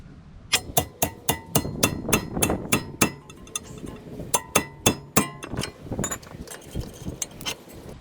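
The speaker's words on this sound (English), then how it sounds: "I'm just hammering it." Repeated sharp metallic hammer strikes on a tie rod separator, around twenty blows in an uneven rhythm, loud and close, ringing on steel, during tie rod replacement on a 2001 Lexus ES300.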